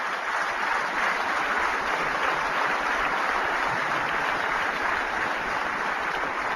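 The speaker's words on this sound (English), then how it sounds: "I want to give them a big clap." An audience at a government programme celebration in India applauds the vaccination teams, a continuous even wash of clapping from a large crowd, steady in loudness throughout.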